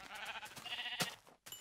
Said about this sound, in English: oh, sheep, that's gonna be really useful for making a bed